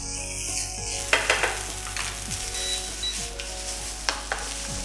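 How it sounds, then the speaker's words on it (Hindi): Chili paste sizzles in a hot pan of Singapore fried rice while a spatula stirs and scrapes in irregular strokes, a steady frying hiss underneath with sharper clatters throughout. "अब बारी है ये थोड़ा सा चिली पेस्ट इसमें डालेंगे हम,"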